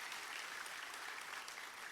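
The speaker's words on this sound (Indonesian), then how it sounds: "Tepuk tangannya yang meriah buat Tuhan." Church congregation applauding for God at a worship service, a steady wash of many hands clapping, fairly faint and distant, with no talk over it.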